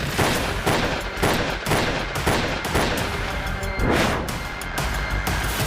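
Gunfire in a news report about hitmen fires in a rapid volley of loud sharp shots, bursts repeating at close intervals for several seconds like a fusillade.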